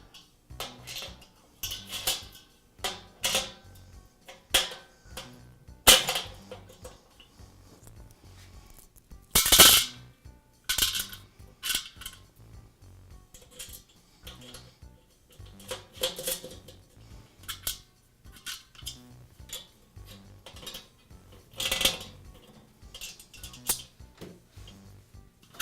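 A lid hanger being refitted on a Weber charcoal grill produces sharp metallic clanks and clicks, scattered irregularly with louder strikes now and then, alone and fairly close.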